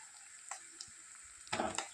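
Ground cluster beans drop into a hot tempering with turmeric, giving a sudden burst of sizzling and frying after a few faint stirring clicks and taps against the pan.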